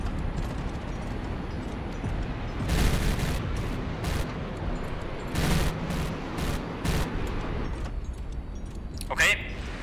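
Bursts of naval gunfire from warships in HighFleet, several sharp volleys around the middle and a final crack, over a constant dense rumble of battle noise, with a person talking.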